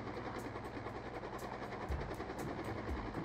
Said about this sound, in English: It's good that I can fly a helicopter.